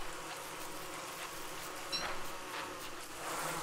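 Bees buzz continuously in the video game Don't Starve Together, a dense, steady drone at moderate volume, with no talking.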